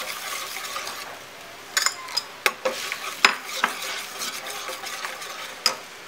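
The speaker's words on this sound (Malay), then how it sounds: "Saya tumiskan di luar ya. Saya tumiskan sini dulu." Onions sautéed in a pan for Perlis nasi ganja, a soft steady sizzle under sharp clinks of a utensil stirring against the pan, close and moderately loud.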